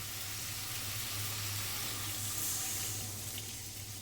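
Water is poured into a pan of jackfruit curry that has dried out and released its oil, and it runs steadily as a broad splashing rush over a low sizzle for about four seconds, with nobody talking.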